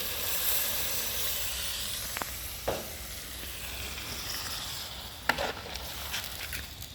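Pork for a pork curry stir-fries over high heat, giving a steady, faint sizzling hiss broken by a few sharp clicks and scrapes, close by, with no one speaking.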